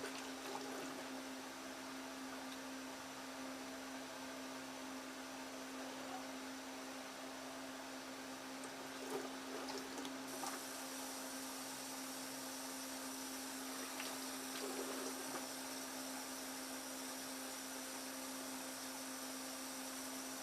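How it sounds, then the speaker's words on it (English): Faint, steady running water rinses a face after a shave, a continuous hiss over a low hum with a few soft splashes. "Go ahead and rinse my face."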